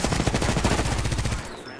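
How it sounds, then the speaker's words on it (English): Rapid automatic gunfire rattles in Apex Legends, a close, loud, steady stream of shots lasting over a second before cutting off abruptly. "I'm getting shot from the side"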